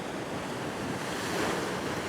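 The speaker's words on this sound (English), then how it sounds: "The waves are on the rise. They're getting bigger." Ocean surf rushes in a steady, broad wash on a rocky fishing shore, mixed with wind noise and with no clear single wave crash.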